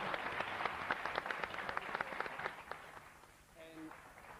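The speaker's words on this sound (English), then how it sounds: "Give yourself a final round of applause." A studio audience gives a final round of applause, a full crowd clapping steadily for about two and a half seconds before tapering off, with a voice starting to speak as it fades.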